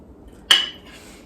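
A single bright clink of a bowl set down as goulash is served, one sharp close contact against a quiet kitchen background.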